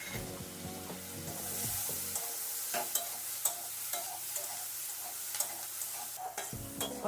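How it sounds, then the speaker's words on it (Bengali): Half a spoon of cumin and a spoon of coriander frying in hot oil alongside soya chunks, a steady close sizzle with intermittent stirring scrapes and clicks, no talking. "দিয়ে দিচ্ছি 1/2 চামচ জিরা আর 1 চামচ ধনিয়া তো এইটা এর সঙ্গে ভেজে নেব"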